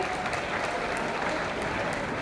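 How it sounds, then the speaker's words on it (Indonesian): Steady crowd applause from new university students at a UNSIQ Wonosobo campus gathering, honoring Mas Danang after his selawatan performance; a dense, even patter of many hands, fairly distant. "Tepuk tangan dong buat Mas Danang yang udah selawatan di musik"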